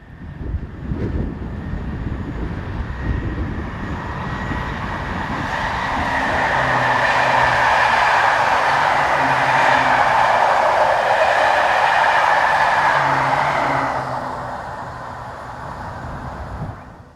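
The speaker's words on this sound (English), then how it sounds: "Unit numbers 436, 425 and 348 return north with the 1737 from Tongeren to Ghent" A Belgian passenger train made of units 436, 425 and 348, running north from Tongeren to Ghent, passes with a swelling rumble and a steady whine that peaks in the middle and then fades, with no talk.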